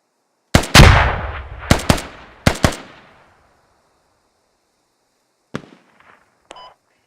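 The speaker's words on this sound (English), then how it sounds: "I'm taking accurate sniper fire on me." Sharp, loud gunshots during a military drill, a cluster of four or five cracks with quick decaying echoes in the first few seconds, then a couple of fainter distant pops and a short beep.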